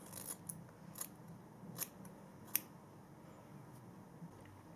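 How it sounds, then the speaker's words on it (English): Scissors make a handful of quiet, sharp snips while cutting a fringe of hair at home. The crisp clicks come at irregular intervals against a soft, low background hush. "So don't do one big snip, because you can always come back to it and cut it shorter"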